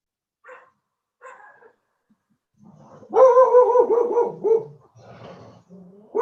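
A dog gives a couple of soft, short yips, then a louder run of whining, howl-like barks and whimpers that rise and fall, close by in a quiet room.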